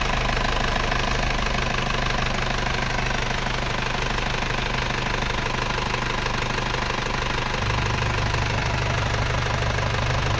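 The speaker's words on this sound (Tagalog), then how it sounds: "Okay ang makina." A diesel truck engine idles close by with a loud, steady rumble and clattering knock, continuous for the whole stretch, its low drone shifting slightly near the end.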